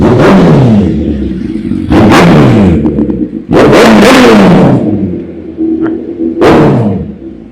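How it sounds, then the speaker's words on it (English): Motorcycle engines rev hard and roar past one after another near a bridge in Curaçao, loud and close, with gear shifts audible as pitch drops between bursts. "More motorcycles."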